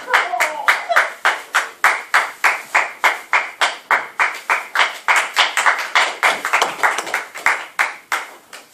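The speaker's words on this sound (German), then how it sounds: "von den Mitstreiters gibt das bestimmt noch einen großen Applaus" An audience at a German village theater play claps in rhythmic unison, loud evenly spaced hand claps repeating steadily about three per second, with a few voices mixed in.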